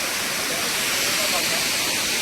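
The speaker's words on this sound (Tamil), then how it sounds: "ஃப்ரெண்ட்ஸ் இங்கே பாருங்கள் அருவி" A waterfall in Kodaikanal gives off a steady, broad rushing hiss that fills the short stretch evenly and moderately loud, with no break and no talk over it.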